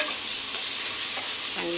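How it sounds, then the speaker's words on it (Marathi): Chicken biryani masala is sautéed in a pan, giving a short burst of steady, loud frying sizzle with a faint stirring scrape near the end. "हे परतून घेऊया"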